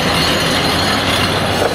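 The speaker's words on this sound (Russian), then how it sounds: "Вот он трамвайчик. Это 7-й номер. Пошел на гору." Tram number 7 climbs uphill along its line, producing a loud, steady rumble of wheels and motor with a rising squeal near the end and no talking.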